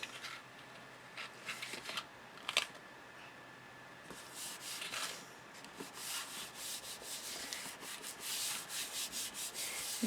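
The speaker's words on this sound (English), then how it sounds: "A good burnish." Glued Stamperia paper is burnished down onto a chest by hand, soft dry rubbing strokes in irregular bursts, close and quiet, with no talk.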